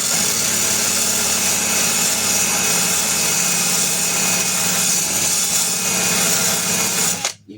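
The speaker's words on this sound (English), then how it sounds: "So you can get a drill brush." A drill-driven brush scrubs the upper sill panel near the B-pillar of a Ford Fairmont GXL under repair, a steady loud whirring grind that runs without break and cuts off abruptly near the end.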